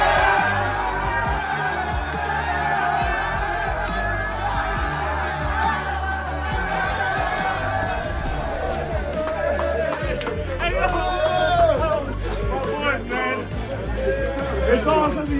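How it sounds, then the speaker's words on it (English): A basketball arena crowd rises in a standing ovation for a player passing 1,000 career points, loud sustained cheering and applause filling the space with rising whoops toward the end. "Crowd gives him a standing ovation"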